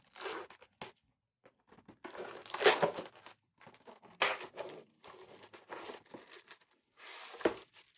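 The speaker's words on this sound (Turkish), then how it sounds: "Bir laylonunu daha açmadım. Laylonunu açalım." Plastic wrapping torn open from a new Tenda D301 v2 ADSL modem, heard as close, intermittent crinkling and tearing bursts separated by brief quiet gaps, with no talking.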